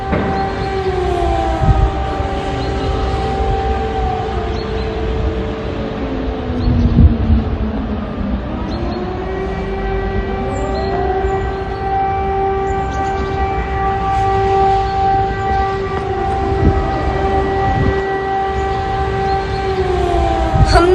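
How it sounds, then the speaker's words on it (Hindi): An air-raid siren in Ternopil, Ukraine wails steadily, its pitch sliding down and rising again over a constant urban rumble, with a second tone layered beneath. "जहां आप सायरन की आवाज सुन सकते हैं।"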